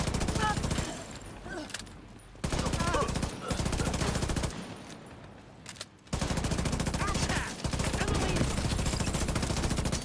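Rapid automatic gunfire from the video game The Division, in long loud bursts separated by short pauses, dense and continuous with brief gaps, with faint voices mixed underneath.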